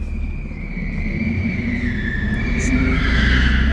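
BMW M3 and M4 cars drifting, a loud sustained tire squeal sweeping over a heavy engine rumble, close and steady for a few seconds.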